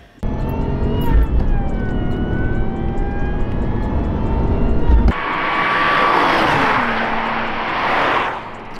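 A Lexus IS200 drives along with its six-cylinder engine droning and a thin whine over it, falling as the car slows, then a sudden shift to a brighter, wind-heavy rush.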